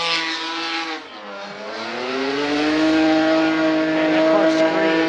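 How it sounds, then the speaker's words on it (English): A drift car engine screams at high pitch during qualifying at Fuji Speedway, dips briefly, then climbs back into a loud, sustained howl as it revs through the corner. "And that car screams."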